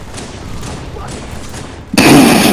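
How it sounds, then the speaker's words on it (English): Gunfire erupts in Halo 3 multiplayer: a sudden loud burst of shots cuts in near the end, after a stretch of quieter background game noise. "Bullets are whizzing by him"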